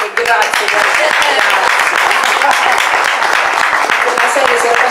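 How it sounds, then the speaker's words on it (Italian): A concert audience at a choir performance in Ripa Teatina breaks into loud, dense, sustained applause, many hands clapping continuously close by, with some voices mixed in beneath it. "questo applauso era ancora meglio"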